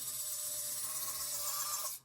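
A small rotary drill whines at high pitch with a faint grinding rasp, drilling holes in polymer clay, running steadily for a couple of seconds before abruptly stopping.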